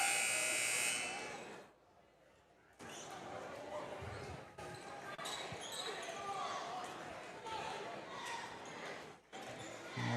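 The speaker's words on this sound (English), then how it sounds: "Buzzer sounds." A loud, sustained buzzer sounds at a boys' high school basketball game in a gym, then cuts off and gives way to crowd noise, sneaker squeaks and a commentator talking.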